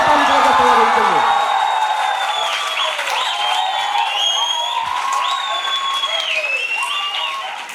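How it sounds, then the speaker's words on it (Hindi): A packed hall audience at a business gathering erupts in loud, sustained applause mixed with cheering, whoops and rising whistles, the roar holding strong throughout before easing slightly at the end. "जबरदस्त ताली और जबरदस्त आवाज होनी चाहिए"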